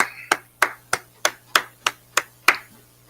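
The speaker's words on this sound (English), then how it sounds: "clap it up" A single pair of hands claps eight times in a steady, evenly spaced rhythm, each clap sharp and close, with no talk over them.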